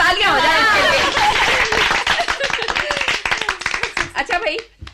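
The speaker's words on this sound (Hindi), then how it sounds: "अब भाई जोर से तालियां हो जाए इसके लिए" An audience claps for the winning team of a children's game at a training session, starting under a speaking voice and then breaking into dense, loud clapping that thins into scattered claps and fades out.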